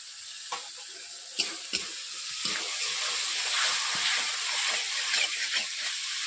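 Chili powder hits hot oil in a pan of drumstick, potato and eggplant, giving a steady close hiss and sizzle broken by short scraping stirs, with no voices.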